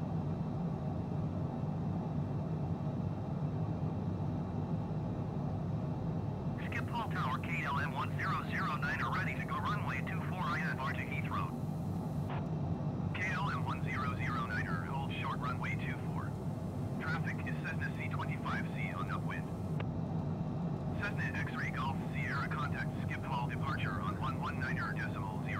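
An airliner rolls for takeoff in Microsoft Flight Simulator 2020 in very strong wind, a steady, heavy engine drone that runs throughout while a person talks over it in intermittent bursts.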